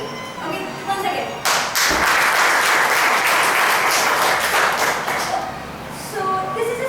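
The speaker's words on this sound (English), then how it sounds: "Do clap for me." Audience at a Toastmasters meeting breaks into sustained applause, loud and close, swelling after a quiet start and continuing several seconds before tapering off, with a voice speaking at the edges.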